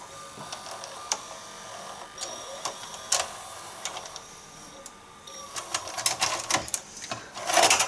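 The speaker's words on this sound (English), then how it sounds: "And that is how VHSs were ejected." A Sharp VC-MH75 VHS player ejects a tape, giving off a run of mechanical clicks, ticks and whirring as the mechanism cycles, ending in a louder clatter, with some faint talk.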